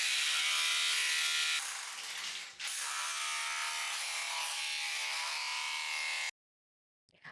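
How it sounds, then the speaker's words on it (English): A harsh, rattling hammer drill breaking up floor tile hammers continuously at close range, briefly changing pitch as it bites, then stops suddenly, leaving near silence. "we decided to just go out and buy a hammer drill to get all the tile out"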